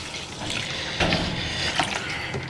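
Fresh water pours and splashes during a gold panning clean-up of sluice concentrates, a moderate steady gush with a few sharper splashes and gurgles.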